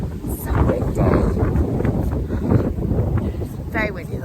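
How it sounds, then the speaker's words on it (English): Strong autumn wind gusting outdoors near a stable and blackberry hedges, buffeting the microphone in loud rumbling bursts throughout, with a person talking over it. "It's very windy the last few days."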